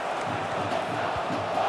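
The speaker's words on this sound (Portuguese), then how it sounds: "A torcida está cobrando o árbitro, Villani" A stadium crowd in the EA FC football video game roars and jeers in protest at the referee during a Copa do Brasil final between Atlético-MG and Botafogo. The dense roar is loud and sustained.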